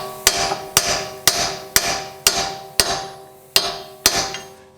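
A hammer strikes a dull, square-tipped chisel against a Dodge Journey front wheel bearing, about nine loud metallic blows at a steady, unhurried rhythm, each ringing briefly before the next.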